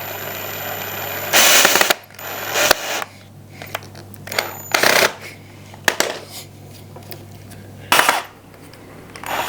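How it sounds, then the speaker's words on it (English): Power drill driving into a wall to fit cable management clips for a renter-friendly plant and grow light stand: four loud bursts of whirring, a steady low hum and scattered small clicks and taps between them. "I thought I will drill some of these in here as well"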